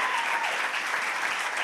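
A congregation applauds a church ministry during a Sunday service, a short, even burst of many hands clapping, moderately loud and steady throughout with no talk over it.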